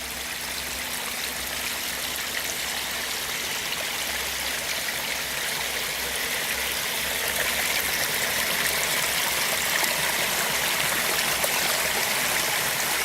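Water pours steadily down a pondless waterfall stream set among ferns, a continuous close splashing rush that swells slightly louder toward the end, with no voices.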